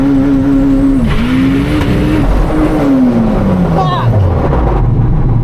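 A Honda Del Sol race car roars loudly at a racetrack, its engine note climbing and then sliding sharply down in pitch as the transmission breaks, with tire noise throughout.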